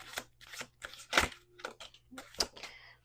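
Broadband riffling bursts of tarot cards being shuffled, several quick flurries in a row, close and fairly loud, with a faint low hum underneath.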